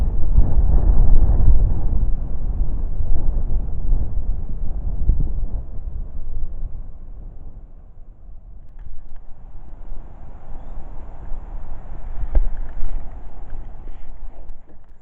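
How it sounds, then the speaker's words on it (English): Strong wind buffets the microphone with a steady low rumble in Datchworth village, Hertfordshire, easing a little midway and then gusting again. No one speaks. "It's getting windy."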